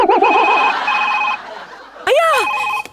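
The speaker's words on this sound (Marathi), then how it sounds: "मामांजींचा फोन आला" An electronic telephone ring repeats in warbling bursts, loud and close, with a brief pause before another rising chirp of the ringer.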